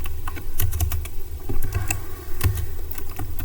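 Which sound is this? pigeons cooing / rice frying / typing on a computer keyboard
typing on a computer keyboard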